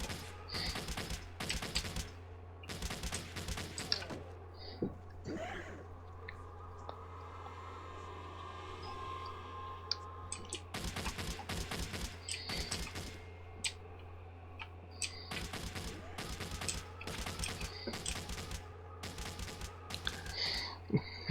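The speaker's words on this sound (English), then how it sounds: "there's clearly a lot of gunfire and weapon fire going off" Gunfire and weapon fire in a video game battle against launcher cyclops and warbots, dense bursts of rapid shots in long volleys that break off into a quieter hum, then resume loudly.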